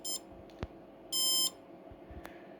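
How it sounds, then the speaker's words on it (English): Electronic speed controller for a model running a 2-cell LiPo battery emits short, bright electronic calibration beeps, a brief one at the start and a longer steady tone in the middle, alone over faint background hum. "When the 2 beeps occurs,"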